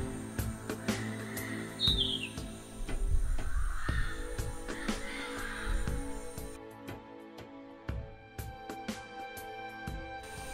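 Wild yellow-headed parrots call outdoors in a rainy tropical setting, a few scattered chirps and squawks, fairly distant, over background ambience.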